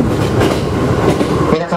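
A JR 205 series Iroha joyful train on the Nikko Line runs on its final scheduled service, with steady rolling rumble and rhythmic wheel clatter heard from inside the car, loud and continuous, with an announcer's voice faintly mixed in.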